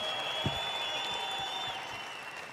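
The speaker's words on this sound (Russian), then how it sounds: "Давайте овациями встретим этот бой" Crowd applause welcoming the opening bout of a fight night between Said Magomed Abdulgazievl and Artyom Kuzmin, a soft, steady wash of clapping in a large hall, fairly distant, with a high tone humming above it.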